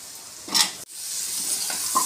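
Pumpkin pieces stirred in a pan for Chettinad puli curry, with a soft frying sizzle and a few brief scraping strokes from the spoon, close and fairly quiet.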